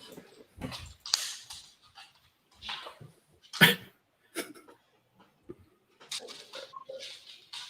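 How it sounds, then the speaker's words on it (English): Scattered dog barks and yips come at irregular intervals, fairly quiet and separated by short silences. "my dog won't stop barking"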